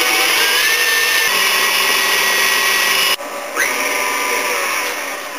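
Electric mixer blending cream cheese, whipping cream and melted white chocolate for cream cheese bars, a loud steady motor whine that briefly drops out near the end, then resumes with a rising pitch and tapers slightly.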